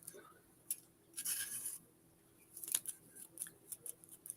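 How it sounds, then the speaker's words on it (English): Scissors snip cannabis in short, crisp bursts, several quick cuts close by, with a few soft clicks between them. "I hate cutting up weed with scissors"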